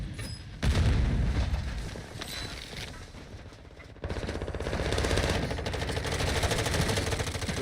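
Rapid automatic gunfire in a Call of Duty Warzone match, with a sharp burst near the start and denser, steadier rattling volleys in the second half, no voices heard.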